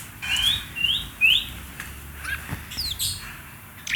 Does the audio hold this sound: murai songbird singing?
yes